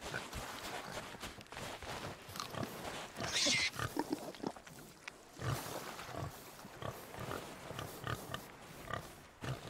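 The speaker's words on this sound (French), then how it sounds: "Le cochon, vous voulez donner un truc au cochon?" A pig in the pirate video game Sea of Thieves oinks and grunts repeatedly at close range, mixed with footsteps and game background noise.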